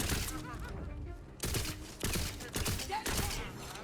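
A 2-shot burst pistol firing in the video game Tiny Tina's Wonderlands: loud sharp bursts recur about every half second, separated by brief gaps, with game sounds and faint talk around them.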